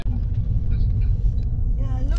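Cars idle in a school drop-off line at the back of a plaza, a steady low engine rumble close by with faint voices near the end.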